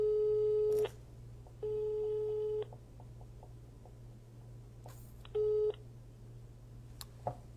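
Telephone tones during a call, with three separate bursts of a steady electronic beep separated by gaps of quiet line noise, plus a few short faint clicks.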